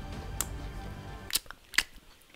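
Crisp crunches from biting into a freeze-dried astronaut apple-cinnamon snack, three distinct close bites over a soft background hum, no talking.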